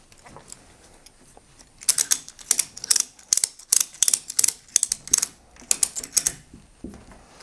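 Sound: ratchet strap tightened through washer dryer stacking kit fastener

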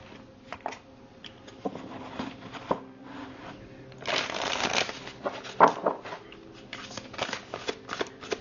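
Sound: shuffling oracle cards

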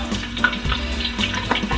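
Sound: small squid (baby octopus-like kkolttugi) deep-frying in oil

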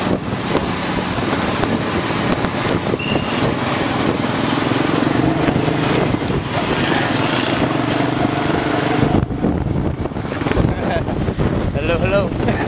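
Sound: motorcycle riding

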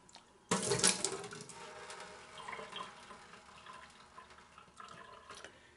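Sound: vinegar being poured out of a container

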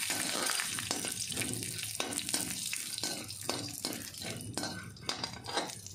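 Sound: raw peanuts roasting in oil in a kadai

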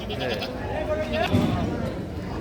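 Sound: goats bleating at a livestock market

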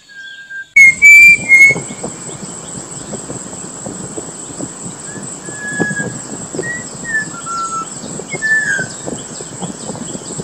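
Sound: Malabar whistling thrush song

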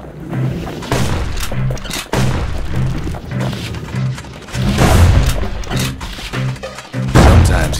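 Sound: firearm shots in the video game Bastion

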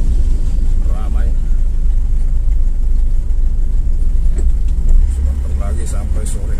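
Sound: road traffic with passing dirt trucks

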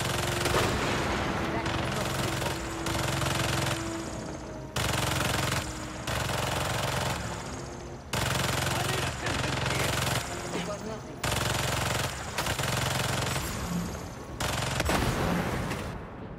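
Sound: turret gunfire in Spider-Man 2 video game

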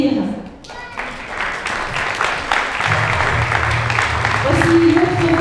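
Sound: audience applauding after a cover

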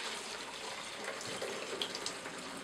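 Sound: pouring C-41 film developer liquid into a bottle

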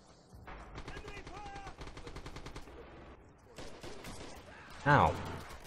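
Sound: gunfire in the video game Red Orchestra 2

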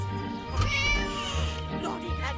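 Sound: cat meowing in the video game Scary Teacher

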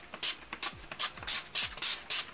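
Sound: makeup setting spray being sprayed

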